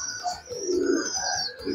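Fancy pigeons with point feathers and white bars coo in a loft, giving close, moderate rolling calls with a few brief chirps between them.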